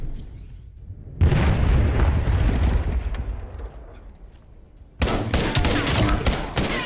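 A grenade detonates in a search-and-destroy round of a competitive shooter game, a loud close boom with a rolling tail, followed by a fresh burst of gunfire and blast noise.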